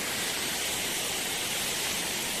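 A waterfall beside a dangerous mountain highway on the road to Chitkul roars as a steady, dense hiss of rushing water, constant and close, with no voices.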